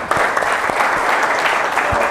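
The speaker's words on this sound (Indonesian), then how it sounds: "tepuk tangan untuk kalian." Students in a school classroom clap together in steady, dense applause lasting a couple of seconds, loud and close with no voices over it.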